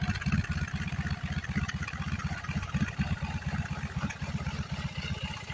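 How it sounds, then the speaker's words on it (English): A 2022 BMW R18C motorcycle's boxer engine idles, its exhaust giving a steady low, throbbing rumble with regular pulses, close and moderately loud with no talking. "But you can kind of hear that rumble of the exhaust. Kind of a cool sound. Unique sound of the Boxer."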